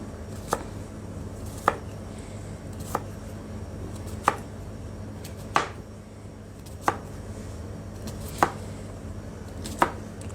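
A knife chops cucumber on a board in eight sharp, evenly spaced strikes that sound close and clear over a low steady background hum.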